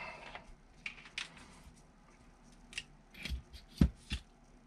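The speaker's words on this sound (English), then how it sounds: "I think I would need to actually cut that piece of plastic" Plastic being cut off the arm of an Axial SCX6 1/6 scale crawler, heard as a handful of scattered sharp snips and clicks, faint and close, with quiet pauses between the cuts.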